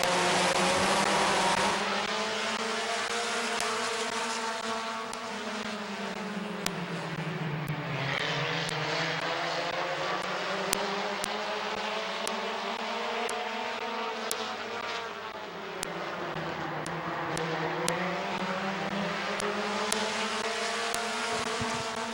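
Several race cars circle the Midvale Speedway oval, a loud continuous engine drone that rises and falls in pitch as the pack sweeps past on each lap, with no talk over it.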